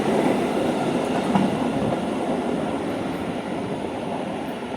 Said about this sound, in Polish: kibel w malowaniu kolei dolnośląskiej opuszcza stację w Mysłowicach.